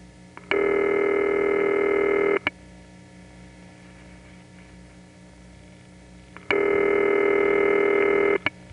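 Old crossbar switching equipment sends two long steady multi-tone signalling bursts, each about two seconds, separated by quiet line hiss with faint clicks. The bursts are loud and close, and no one speaks.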